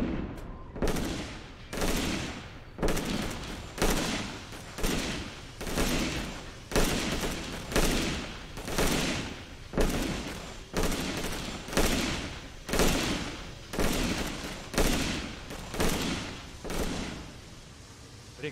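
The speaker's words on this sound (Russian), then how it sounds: "Эй, они стреляют в нас!" Sustained gunfire in the World War II strategy game Rush for Berlin, with rhythmic volleys of shots about once a second for the whole stretch, loud and close, with no talk over it.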